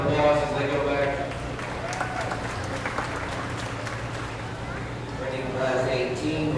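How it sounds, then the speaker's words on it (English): Audience clapping at a 2025 beef cattle show, a sustained wash of applause in a large arena as an announcer's voice carries over it. "Give them a round of applause as they go back."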